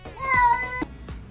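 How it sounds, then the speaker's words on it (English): A cat being given a bath lets out one loud, drawn-out, complaining meow up close, followed by a short softer sound. "You're a cat."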